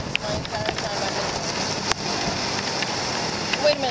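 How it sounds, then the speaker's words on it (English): Rain falling during a motorbike ride in Bali, a steady patter and hiss mixed with wind noise, with a few sharp clicks and drips close to the microphone. "I can't believe it's raining right now."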